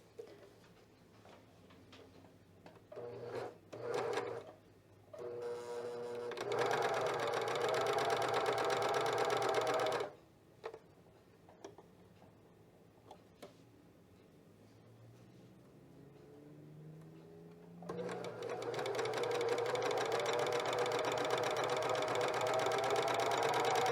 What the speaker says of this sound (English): I have my cover stitch set up with the needles close together